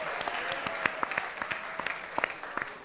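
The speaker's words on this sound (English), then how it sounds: "Let's get a round of applause for John Snyder, everybody." An audience at an arts and entertainment industry forum applauds steadily, with individual claps standing out sharply within a moderate, slightly distant wash of clapping.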